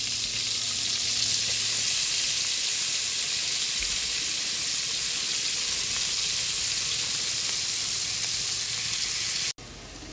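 Garlic sizzles in hot butter in a pan for butter garlic shrimp, a steady loud frying hiss that runs unbroken before cutting off briefly near the end.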